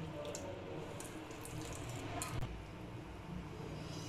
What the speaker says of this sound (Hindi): सारे कपड़े को इकट्ठा करके इसका पानी निकाल लेंगे अच्छी तरह।